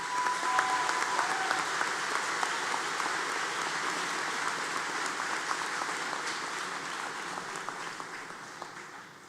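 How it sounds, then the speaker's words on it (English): A graduation ceremony crowd gives the class of 2025 a long, even round of applause, a dense rain-like patter of many hands that stays steady and slowly fades near the end. "one last round of applause for the class of 2025"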